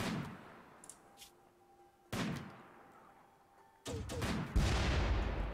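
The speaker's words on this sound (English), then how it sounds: "Okay, they are firing at Travis" Gunfire in the RimWorld video game comes as a few sharp, separate cracks and short bursts spread across several seconds, fairly faint with quiet gaps and a low hum in between, no talk over it.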